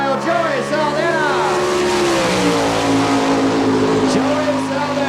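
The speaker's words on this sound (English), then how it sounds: "On the track now, in the number 17 car." A number 17 sprint car thunders around a half-mile dirt oval in Belleville, Kansas, its engine roaring loud and steady throughout with rising and falling revs as it laps the track.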